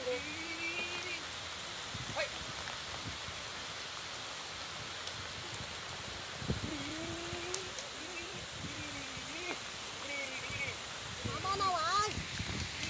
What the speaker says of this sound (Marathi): आता तर पाऊस मोठंच दिलो.